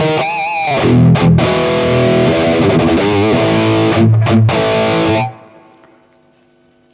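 A distorted electric guitar played through a Hotone Ampero amp modeler plays chords and bends with a thick amplified tone, loud and continuous, then rings out and fades away.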